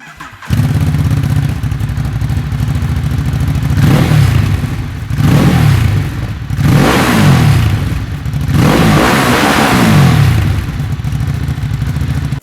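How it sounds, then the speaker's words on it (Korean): Ducati Hypermotard 821 V-twin with a Termignoni muffler starts up, then idles loudly with a deep, rough exhaust burble. Several sharp throttle revs rise and fall in a steady rhythm, close up and with no talk. "배기 사운드 한번 들어볼까요?"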